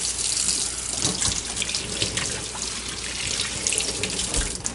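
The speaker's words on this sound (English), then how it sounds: "it's a cold water. I'm washing the turkey." Cold tap water runs steadily over a raw turkey in a kitchen sink, a continuous close splashing rush with brief spatter changes as the bird is turned, no talking.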